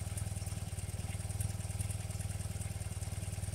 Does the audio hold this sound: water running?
no